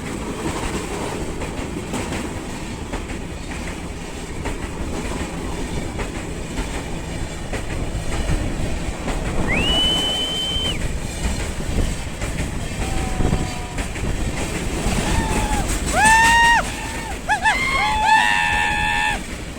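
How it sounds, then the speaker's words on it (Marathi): A train rushing past very close to a trackside spot by KP Waterfall in Khopoli, a loud continuous roar and rumble of wagons with screeching wheel squeals rising near the end. "ज्या स्पॉटचा आम्ही थांबलोय तिथे बघा अशा प्रकारे ट्रेन येतात"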